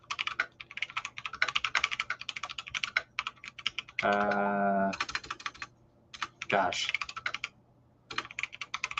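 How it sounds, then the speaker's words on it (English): Keys clatter in quick bursts of typing on a mechanical keyboard, close and crisp, with short pauses between runs. A voice breaks in briefly over the typing. "Sorry, you can hear my mechanical keyboard."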